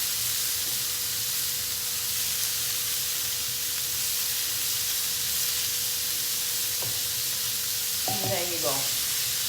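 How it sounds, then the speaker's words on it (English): Lemongrass chicken breast grills in Saladmaster cookware with a steady, fairly quiet sizzle and hiss throughout, and a person speaks briefly near the end. "what we're doing is grilling"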